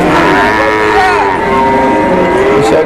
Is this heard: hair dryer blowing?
no